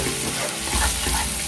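Dry fish and egg curry mixture being stirred in a pan with turmeric, a short close burst of sizzling and scraping alone without speech.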